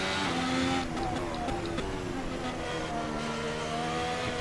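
A works 2017 Ferrari race car in the Assetto Corsa racing sim, its engine revving hard with a loud, steady, harmonic roar whose pitch climbs and dips as the revs change, continuous throughout.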